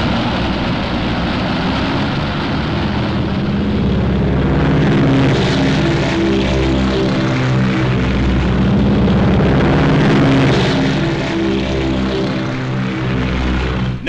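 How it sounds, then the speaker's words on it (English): Navy propeller planes of the Midway battle roar loud and continuous, a thick droning engine rumble with pulsing low tones that swells slightly midway, heard alone without talk. "Navy planes roared from the decks of our carriers"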